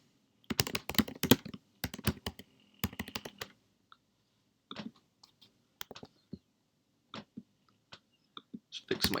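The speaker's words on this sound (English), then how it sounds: "Just fix my typing here." Someone types on a computer keyboard in irregular bursts of clicking keystrokes, close and crisp, with silent pauses between the flurries.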